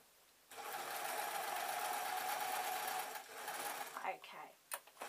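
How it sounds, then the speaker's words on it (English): A sewing machine stitches light summer fabric for a newborn's baby hat, running as a steady close mechanical whir for about three seconds before slowing into a few uneven clicks. "It's just to let the machine take it and then allow it to sew."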